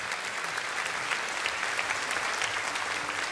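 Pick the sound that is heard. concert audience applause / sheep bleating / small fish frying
concert audience applause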